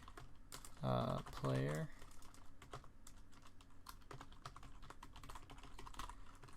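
Keys clack steadily on a computer keyboard as code is typed for an SFML dodge game, a fast run of close, crisp taps; a short spoken phrase breaks in near the start.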